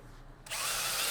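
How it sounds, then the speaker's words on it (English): A power drill spins up and bores into a rivet on a Yoshimura RS-12 muffler from a Honda CRF Works Edition, a brief hush then a loud, steady close whine. "Drill a little bit out till you see something like that. And then repeat the steps for all 7"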